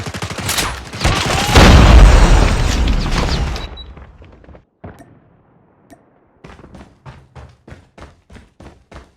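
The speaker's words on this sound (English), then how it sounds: "Grenade!" A loud, close grenade explosion in the mobile shooter game Call of Duty Mobile, a dense roaring blast lasting a few seconds, followed by a quiet gap and then a run of sharp, evenly spaced gunshots.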